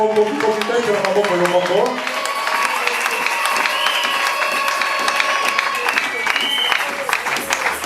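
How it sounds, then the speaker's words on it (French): A church congregation applauds itself at a community gathering. A voice is heard before the clapping, which then swells into a loud, sustained crowd sound with hands and cheering mixed through it. "Est-ce que vous pouvez applaudir pour vous-même?"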